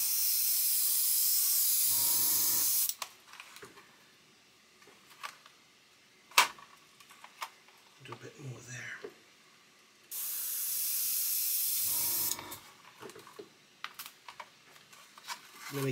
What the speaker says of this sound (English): And then spray through here.